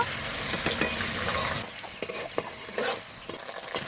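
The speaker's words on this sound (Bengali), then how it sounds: "এবার নারকেল কুচি ভেজে নেব।" Shredded coconut fries in oil with whole cumin, bay leaf and dried chilli, a loud close sizzle that eases after a moment while a spatula scrapes and stirs in quick irregular strokes.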